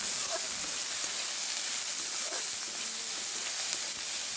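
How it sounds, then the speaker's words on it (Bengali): Peanuts sizzling in hot oil with softened, translucent onions, a steady broadband hiss running evenly throughout with no pauses, close and moderately loud, with no one speaking. "এবার বাদামগুলো দিয়ে দিলাম, ফ্রাই করে নিচ্ছি।"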